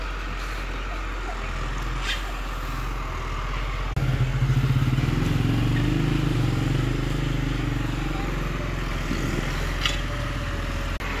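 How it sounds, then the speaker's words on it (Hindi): A tractor with discs mounted at the rear approaches across a village field, its low steady engine drone growing louder after a few seconds and rumbling on close by, with no talk. "अभी ट्रैक्टर फिर से आ रहा है।"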